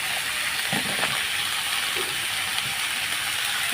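Goat meat fries in a pan with turmeric and salt, giving a constant close sizzling hiss with a few faint soft knocks and no speech.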